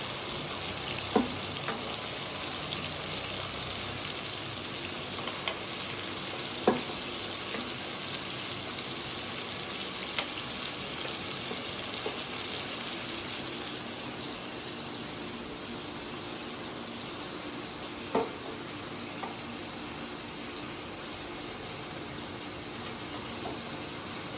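Spice masala sizzles steadily in a cooking pot, a continuous close frying hiss with occasional clinks and scrapes of a stirring utensil, no voices.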